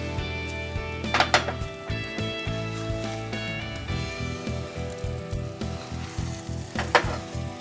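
An egg fries and sizzles in a pan, a steady close crackle broken by clinks and scraping as it is moved and turned.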